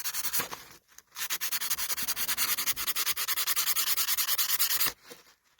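Boulder opal being hand-rubbed on 1000 grit gives a close, rhythmic rasping sound, many quick even back-and-forth strokes, with a short pause near the start and the rubbing stopping just before the end.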